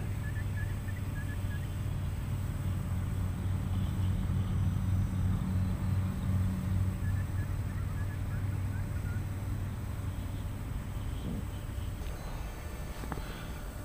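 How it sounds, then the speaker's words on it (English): A steady low rumble of a truck engine idling or rolling nearby runs throughout, with a constant mechanical hum over it. "Can you hear that truck behind me?"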